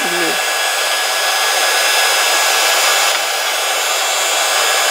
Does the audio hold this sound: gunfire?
no